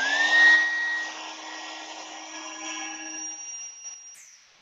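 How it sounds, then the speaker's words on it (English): A handheld blow dryer blows a steady stream of air at a ping pong ball, giving a constant motor whine with a rushing airflow hiss. It starts fairly loud, settles, and fades near the end. No voices. "Another example of that might be a ping pong ball"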